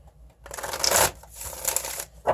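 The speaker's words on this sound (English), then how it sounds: "Get a few shuffles in here" Tarot cards are shuffled close by in two quick riffling bursts, with the start of a third at the end and brief quiet in between.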